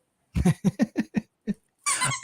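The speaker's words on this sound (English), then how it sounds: "He has little squishy wine bottles, squeak toys, and there he goes." A dog chews a squishy wine bottle squeak toy, giving a quick series of about seven rubbery squeaks in an uneven rhythm, then one longer squeal, close and clear.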